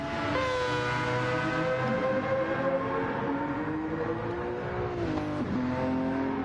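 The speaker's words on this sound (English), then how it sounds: "Just got rumbling and cranky sounding GTR there." A Nissan GT-R race car engine rumbles and drones steadily at close range, with its pitch shifting as it revs, and no talking.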